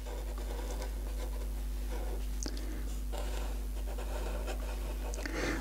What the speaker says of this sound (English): Now I can carry on with the rest of the inking in.